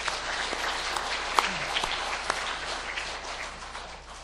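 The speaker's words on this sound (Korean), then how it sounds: "박수를 드리겠습니다." A church congregation applauds together, a fairly soft, steady patter of many hands with a couple of sharper individual claps, fading slightly toward the end.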